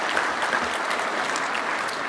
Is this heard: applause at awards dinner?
yes